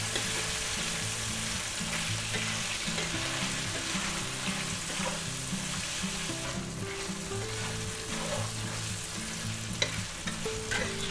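Chicken and broccoli for a cashew stir-fry sizzle loudly in a hot pan while being stirred, with rhythmic scraping and tossing over a constant close frying hiss and no talk.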